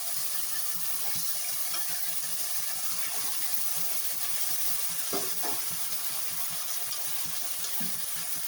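Chopped ridge gourd goes into a hot pan for curry, giving a soft steady sizzle and hiss with faint stirring clicks and scrapes.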